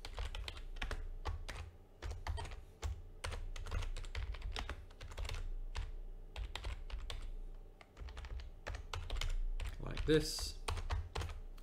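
Rapid clicking keystrokes on a computer keyboard while code is typed, quiet and close, with a brief spoken word near the end.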